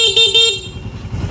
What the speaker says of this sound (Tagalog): Ito yung busina na nilagay natin,